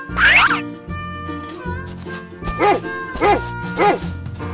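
A cartoon dog barks once, then three more evenly spaced barks follow, close and loud over playful children's music.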